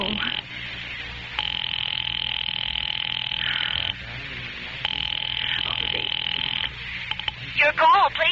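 An old telephone line ringing through a receiver, steady electronic ring tones in two long bursts separated by a pause, close and clear, with a voice starting to speak at the end.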